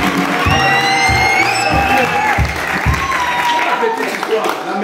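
An audience claps and cheers together, with steady applause, scattered shouts and whoops, and some voices rising over the clapping throughout.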